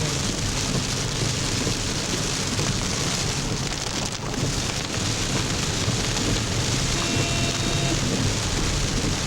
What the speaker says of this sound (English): Pretty sure you can hear us over the rain.